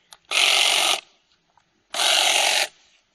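A power trimmer cuts back shrub branches in a garden border, two loud buzzing bursts each just under a second long with a quiet pause between.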